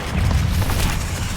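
The Confringo spell in Hogwarts Legacy lands as a single heavy, booming blast, loud and low with a short rumbling tail, and no voices over it.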